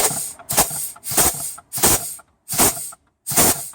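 Six short bursts of compressed air hiss sharply into the K3 clutch port of a VW 01M automatic transmission on the bench, each lasting about half a second and separated by brief silences, loud and close.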